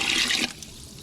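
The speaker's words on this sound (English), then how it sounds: "Then add some water, just enough to cover the kitchen waste." Water gushes and splashes onto kitchen waste in a short loud burst, then cuts off abruptly into quiet.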